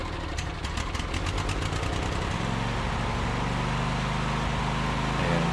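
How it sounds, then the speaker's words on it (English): A Briggs & Stratton V-twin engine, freshly fitted with a replacement cam, runs steadily at a close, loud idle with an even, rapid firing beat and no talk over it. "it fires right up with a little bit of starting fluid. And it runs good, it sounds good."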